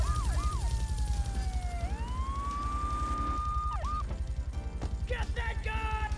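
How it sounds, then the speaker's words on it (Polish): Police car siren in GTA 3: a wailing, gliding tone that sweeps up and holds steady, then gives way to short yelping whoops and overlapping siren calls near the end, over a constant low engine and traffic rumble. "O, słyszę w oddali tego niebieskiego kulomiota."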